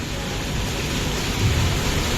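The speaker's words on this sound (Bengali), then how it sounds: "বৃষ্টি হচ্ছে" Steady rain pouring during a sudden shower after hot weather, a dense continuous hiss with low rumbling underneath, heard alone without any voices.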